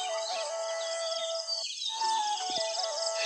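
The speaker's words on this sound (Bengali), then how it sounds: "অনেকগুলো পাখি একসাথে ডাকতেছে" Many birds chirp and call at once on a village morning, overlapping high twittering songs filling the air with a steady outdoor chorus.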